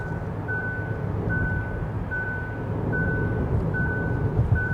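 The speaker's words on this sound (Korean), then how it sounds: "후방에 차가 없기 때문에 이 사운드적인 알람을 꿰주네요. 고속도로 주행보조 시스템이 해제됩니다" Highway driving assist alert in a 2020 Hyundai Grandeur Hybrid: a repeating electronic beep chimes about every 0.8 seconds over a steady low road and engine rumble inside the cabin.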